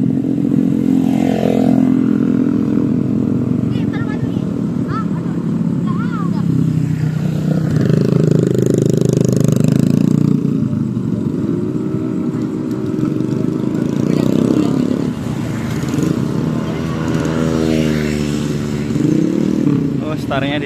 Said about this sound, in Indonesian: Ada selingan tontonan balap liar di sini